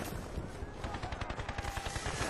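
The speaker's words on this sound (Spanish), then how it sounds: "Intercambio de disparos en C." Gunfire exchange from the video game Battlefield Bad Company 2, with rapid, dense bursts of automatic shots crackling in quick succession and some heavier reports mixed in, loud and continuous throughout.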